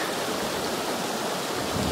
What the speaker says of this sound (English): I believe this is called Tourmaline Creek. It's all the snow melt that goes into the lake,